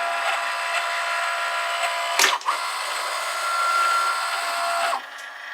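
A Cricut cutting machine runs with a cutting mat loaded, giving a steady motorized whir with tonal hum, broken by a brief clunk partway through and a shift near the end, with no talking.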